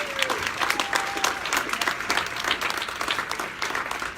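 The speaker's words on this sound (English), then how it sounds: "Big round of applause for all of our winners once again." Audience applause for award winners at an evening awards event, a dense steady wash of many hands clapping close and loud for the full length, with faint voices mixed in.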